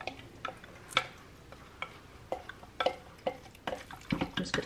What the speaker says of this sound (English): I'm just gonna kinda mix that up with the meat real good